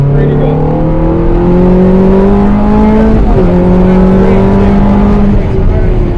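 Race car engine climbing hard under full throttle on a circuit track, loud and close, with rising harmonic sweeps, a brief dip near the midpoint like a gear change, then pulling strongly again.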